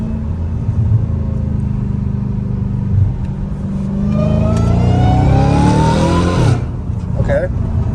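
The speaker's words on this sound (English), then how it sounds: "So this is second gear pull." A Dodge Challenger Hellcat Redeye with valved mufflers pulls hard in second gear, its loud engine note climbing steadily in pitch over several seconds before easing off, with a voice talking in the background.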